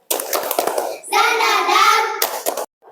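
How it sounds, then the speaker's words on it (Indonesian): Children in a classroom doing a rhythmic clapping chant led by a teacher, with sharp clustered claps at the start and end around a sustained stretch of voiced chanting in between. "Tepuk semangat."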